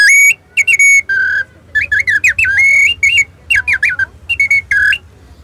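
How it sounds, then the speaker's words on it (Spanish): A handmade clay bird whistle, made with pre-Hispanic techniques, is blown in quick bursts of shrill, warbling chirps, close and loud, with brief pauses between trills. "Esta pieza le hace sonido de pajarito,"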